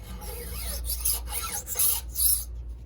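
Square hand file sliding over the steel rakers of a 3/8 West Coast Husqvarna chainsaw chain, giving four or five close, gritty scraping strokes of rising loudness, then a quiet stop.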